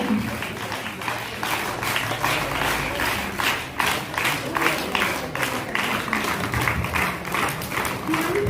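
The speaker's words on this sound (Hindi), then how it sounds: "ताली जोरदार होनी चाहिए।" An audience at a girls' middle school Independence Day program in Pivdai breaks into loud, vigorous clapping, a dense, steady rattle of many hands with crowd murmur running beneath it.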